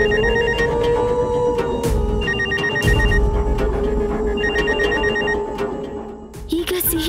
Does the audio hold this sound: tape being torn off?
no